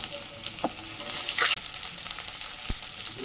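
Ginger paste, turmeric and salt frying in a pan, a close hissing sizzle with a brief louder spatter burst and a few utensil taps, no talking.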